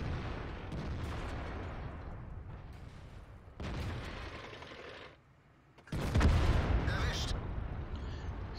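Heavy 17 cm tank cannon shots in World of Tanks on a Type 5 Heavy, with loud booming blasts and rumbling battle noise across the clip, a sharp burst near the end after a brief lull.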